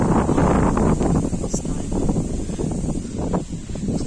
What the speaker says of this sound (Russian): Извините, конечно, что свистит ветер, сегодня поднялся